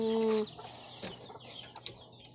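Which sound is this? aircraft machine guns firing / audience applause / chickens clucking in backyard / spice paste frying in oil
chickens clucking in backyard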